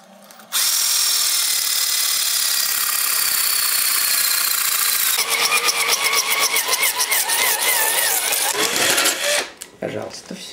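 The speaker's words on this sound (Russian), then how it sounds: "Просверлили, значит, мы это отверстие." A power drill bores a hole through terrarium glass, running as a loud, steady whine that turns rougher and more rattling partway through, then winds down and stops with a few brief bumps at the end.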